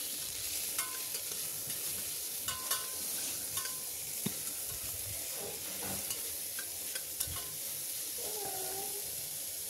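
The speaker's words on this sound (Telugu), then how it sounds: "ఇప్పుడు సన్నగా కట్ చేసి పెట్టుకున్న ఒకటి మీడియం సైజ్ టమాటో కూడా బాగా ఫ్రై చేసుకుందాం అండి" Finely chopped medium tomato frying in a pan for kuska biryani, producing a continuous sizzle with regular spatula scrapes and taps, while a cat meows repeatedly in the background.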